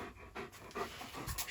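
A dog pants heavily and rhythmically nearby, with quick breathy bursts repeating steadily and no voices over them.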